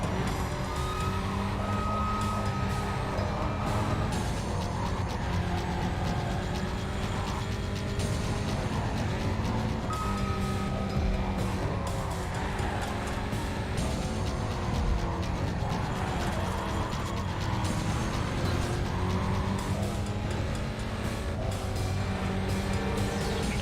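Need for Speed Carbon: a car races the Eternity Pass canyon duel with a continuous, loud engine drone, shifting tones and occasional revving carrying on unbroken for over twenty seconds.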